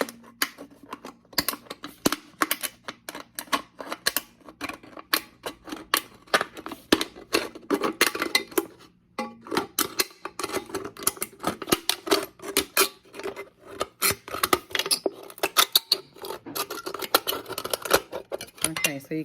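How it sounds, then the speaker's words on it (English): KitchenAid kitchen scissors snipping around a thin metal can, a long run of sharp, rapid metallic clicks and crunches close up, briefly pausing midway, with a person talking at times. "So what you want to do, you're going to cut around this can."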